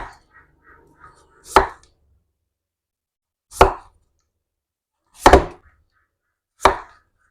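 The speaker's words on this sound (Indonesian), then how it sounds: "Kita potong tipis-tipis seperti ini." A knife thinly slicing vegetables for a vegetable steam dish, cooked outdoors in a forest village setting. Four sharp, separate chops land about two seconds apart, close and clear, with faint rustling between them.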